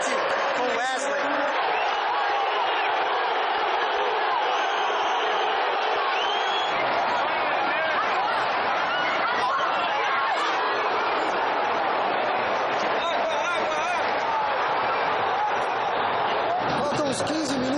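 Football crowd in the stadium stands during a tense second half, Brazilian league match, a constant dense roar of fans under continuous excited commentary.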